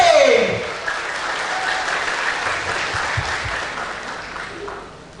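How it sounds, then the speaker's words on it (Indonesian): Sustained applause from an audience, a dense wash of clapping that holds steady for several seconds before easing slightly at the end. "Beri tepuk tangan yang meriah untuk KMBP"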